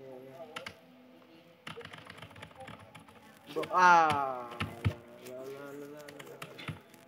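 Light, scattered clicking of a computer keyboard runs under a voice that speaks briefly, the key taps soft and irregular against a faint background hum.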